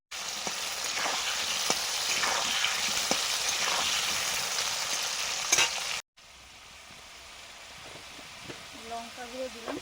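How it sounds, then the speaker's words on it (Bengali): Potatoes fry in a pan with dry cumin and whole dried chillies, a loud continuous sizzle with occasional stirring scrapes that drops to a quieter hiss partway through, while a voice speaks faintly near the end. "আলুগুলো ভেজে নিচ্ছি।"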